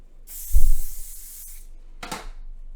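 Living Proof hairspray sprayed onto hair: a long, close hissing spray of about a second and a half after a soft thump, then a short second burst.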